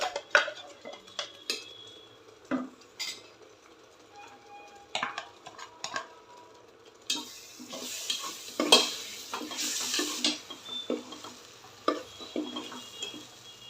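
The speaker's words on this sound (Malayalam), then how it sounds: "അതിനുശേഷം തക്കാളി അരച്ചത് ചേർത്ത് പച്ചമണം മാറുന്നത് വരെ നന്നായി ഇളക്കുക." A spoon or spatula stirs ground tomato in a cooking pan for Gujarati undhiyu, with scattered scrapes and clinks early on, then a denser sizzle with repeated stirring strokes in the second half, close and moderately loud, with no talking.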